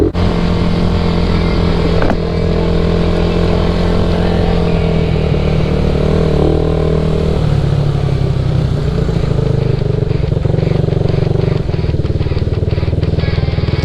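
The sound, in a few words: Suzuki Raider 150 Fi motorcycle engine revving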